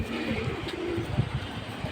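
Pigeons at a pigeon market give soft, low cooing calls at a moderate distance, repeated irregularly over a faint background murmur.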